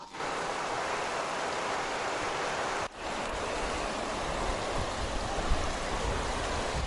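Steady rushing water fills the whole stretch, a broad continuous roar of a fast mountain river in the former Circassia region, briefly interrupted once by a short dip.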